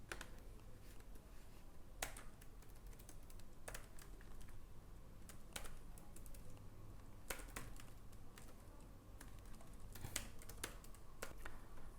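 Quiet typing on a computer keyboard while filling in an online IELTS registration form, scattered key clicks and sharper taps spread irregularly over a low steady background hum.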